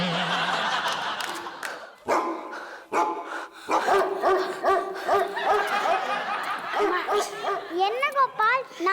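A dog barks in short bursts amid a lively TV comedy scene, with people talking and laughing over and around it.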